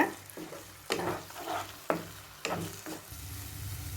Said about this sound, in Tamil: முட்டையை வதக்கிக்குவோம் இந்த மசாலாவோட